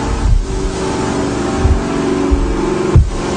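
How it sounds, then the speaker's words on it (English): An old magnetic induction motor runs steadily with a constant mid-pitched hum, broken by several soft low thumps and bumps nearby. "Motor still running."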